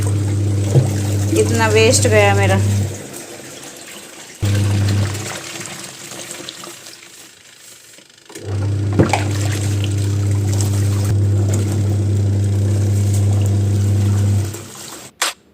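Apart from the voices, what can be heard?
draining excess water from a washing machine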